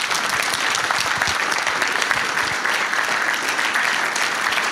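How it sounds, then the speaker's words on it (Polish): A seminar audience claps loudly and continuously for a guest speaker, many hands producing a thick, even wash of applause from start to finish. "Duże brawa."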